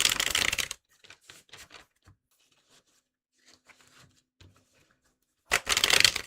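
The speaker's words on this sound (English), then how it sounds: "I'm going to shuffle your tarot." A deck of tarot cards is riffled in two bursts, one at the start and one at the end, with softer card handling and taps in between.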